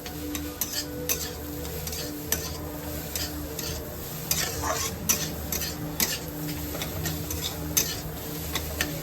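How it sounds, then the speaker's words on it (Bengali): Bananas get mashed and stirred with a spatula in a pan, giving repeated scraping taps and clicks over a faint sizzle, with no voices. "এরকম নাড়বে আর ম্যাশ করে দেবে একদম"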